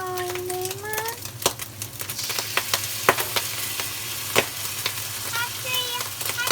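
Chopped garlic and seasonings for Sichuan mapo tofu sizzle loudly in a hot pan with clinks of a stirring utensil. A high, childlike voice speaks over the frying.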